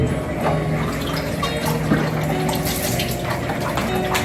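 Water pours steadily while making coffee, a continuous splashing rush from start to finish with faint background noise.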